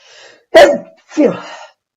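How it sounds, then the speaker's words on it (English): A single sharp, close sneeze bursts out, followed by a softer breathy exhale. "If I knew how to edit, I would edit that sneeze out"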